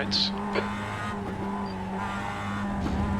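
A Mazda MX-5 racing car in iRacing at Lime Rock Park slides wide through a corner, its engine droning steadily while the tires squeal and skid, loud and continuous.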